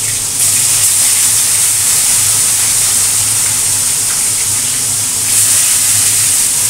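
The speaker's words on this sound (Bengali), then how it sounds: "ঠিক আছে, মাছগুলো ভাজা হোক," Fish fry in a pan with a loud, steady sizzle. The dense hissing spatter runs the whole time, close up with no talk.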